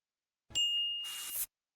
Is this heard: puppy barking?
no